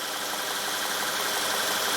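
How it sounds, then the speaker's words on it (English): A VW Tiguan engine idles after a water pump and intake manifold replacement, giving a steady, even hum with a faint ticking texture throughout and no talk. "I let this engine idle here for around 10 minutes."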